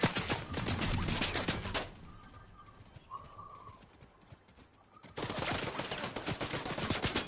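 Fortnite gunfire in rough bursts: a loud crackling volley, a quieter stretch with faint distant shots, then another loud burst of shooting.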